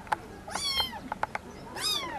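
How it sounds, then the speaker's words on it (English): A cat meows a couple of times, high and wavering, with a few soft clicks in between, fairly quiet and nearby. "I hear a kitty."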